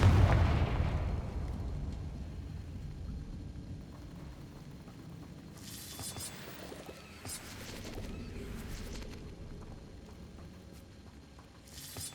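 Confringo explosive spell cast in Hogwarts Legacy: a heavy booming blast at the start that rolls off into a low rumble, followed by bursts of crackling debris and scattered pops.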